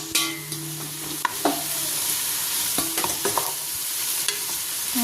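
Onions frying for a chicken kurma are stirred in a pan. Steady sizzle runs throughout, and a scraping stir sounds several times on top. No one speaks.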